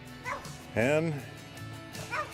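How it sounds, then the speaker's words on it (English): Dog barking and yipping outdoors where fruit trees are being planted, a few short whimpering yips followed by one louder bark, with a brief word spoken over it. "there's your dog."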